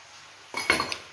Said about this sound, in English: Stir. We stir it a bit.